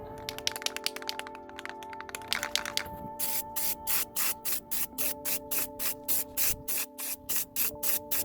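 Spray gun coating the inside of a Ford E350 truck bumper with Raptor bedliner, heard as a series of regular, loud hissing bursts of spray with short pauses between them, close up and with no talking.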